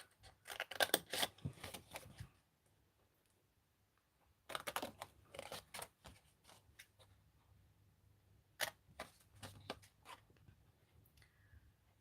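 Scissors snip away paper flaps at a craft table, coming in quick bursts of close, crisp cuts separated by quiet pauses, with a short final flurry near the end.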